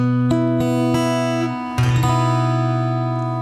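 An electric guitar sounds a sus4 chord shape, strings plucked in order so each note rings out and sustains, then a second strum restrikes the chord and lets it ring, close and clear with no talk.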